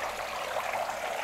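Water runs steadily from a hose into a crayfish tank, a continuous close splashing trickle with no voices.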